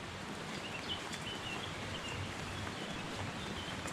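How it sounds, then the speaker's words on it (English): Steady broadband rush of a river flowing beside a path through a wooded Manx national glen, continuous and fairly close, with faint high bird twittering scattered over it and no talk. "Just the sound of the river flowing by the side of us and the birds twittering away."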